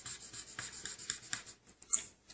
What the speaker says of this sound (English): get your dry erase marker and go over the permanent marks